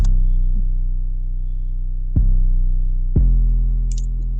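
A sustained, deep 808 bass tone that retriggers twice with sharp attacks, each note ringing out long and booming, with no other instruments.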